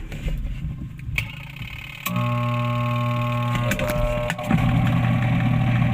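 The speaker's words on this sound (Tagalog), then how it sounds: "Kung napansin natin, umuugong yung motor." Washing machine motor humming steadily without spinning the drum, a close, even drone with occasional clicks and knocks, no talk over it.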